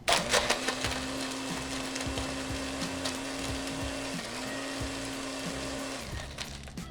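A blender crushes ice for a frozen margarita, a steady loud grinding whir with rattling chunks that drops pitch briefly midway and runs on alone without talk.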